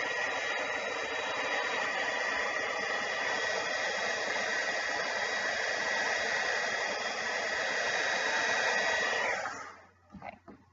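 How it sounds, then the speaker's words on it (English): A hair dryer blows steadily on hair extensions being styled with a brush, a loud continuous rushing whoosh held for about nine seconds before it cuts off, with a few faint handling sounds after. "First I'm going to blow dry it."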